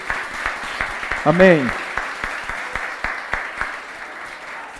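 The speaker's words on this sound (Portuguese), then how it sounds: "Eu vou pedir para alguns irmãos se levantar, aplaudir e abraçar essa família que vieram nos abençoar de tão longe." Church congregation applauding a visiting family during a service, with steady rhythmic clapping throughout, while a voice briefly calls out over the claps near the start.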